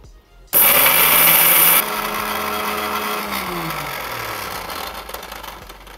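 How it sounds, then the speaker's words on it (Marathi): A mixer grinder grinds roasted dhapate ingredients into flour, its motor whirring up suddenly into a loud, high whine that then settles into a steady lower drone. "आता ही मिक्सरला लावून घेते।"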